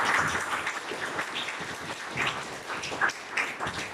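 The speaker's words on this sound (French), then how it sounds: "Applaudissez le Seigneur très fort." A church congregation applauding during a French-language worship service, a dense burst of clapping lasting several seconds, fairly loud and close, with no talk over it.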